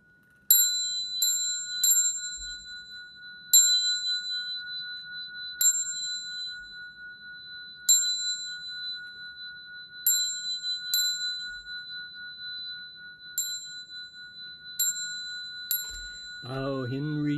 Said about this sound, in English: I'll ring the bell 3 times.